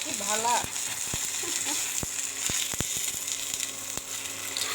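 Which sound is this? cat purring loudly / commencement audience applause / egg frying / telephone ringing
egg frying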